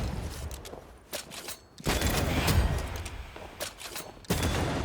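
Enemy gunfire in Banishers: Ghosts of New Eden, a string of sharp bursts and cracks over a continuous rumbling bed, some shots louder and nearer, with mechanical creaks between.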